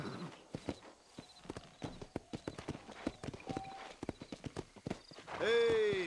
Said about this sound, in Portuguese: Eu sinto cada passo dele nesse chão de terra.